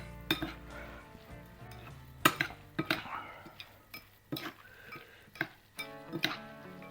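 Cooked lupin and couscous salad ingredients being stirred together in a bowl, with repeated close clinks and scrapes of a utensil against the dish at an irregular rhythm.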